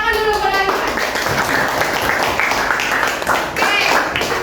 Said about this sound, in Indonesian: terus tepuk tangan dulu buat Alihan